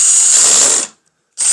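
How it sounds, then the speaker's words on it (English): A power drill drives a screw with a loud, close, high whirring burst that stops briefly and then starts again, with no talk over it. "Drill, baby, drill."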